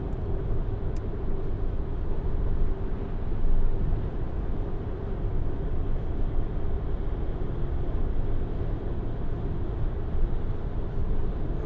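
Cabin drone of a 2015 Volkswagen Transporter Shuttle van cruising at 70 mph in seventh gear around 2,000 rpm, a steady low engine and road hum with constant level and no talking.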